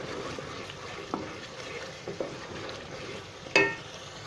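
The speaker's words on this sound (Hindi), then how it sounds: "इसको चलाते रहेंगे ताकि ये प्याज और टमाटर जो है अच्छी तरह से गल जाएं और अच्छा सा मसाला बन जाए" Onion and tomato masala being stirred in a pan, with scattered soft scrapes and a sharper clink near the end over a low, steady background.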